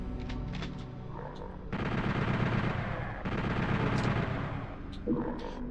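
Rapid machine-gun bursts from a chaingunner enemy in Doom running on original PS1 hardware, two long loud volleys separated by shorter shots, with game tones around them.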